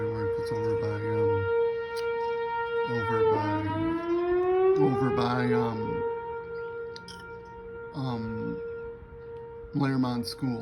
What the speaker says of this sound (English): The sirens are going off. They're testing it. Testing the sirens.